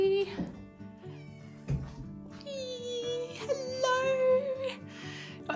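Eleven-week-old Ragdoll kittens meow repeatedly, high-pitched and close, several overlapping cries in quick succession while a person talks softly among them.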